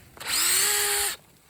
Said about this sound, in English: when you drill your hole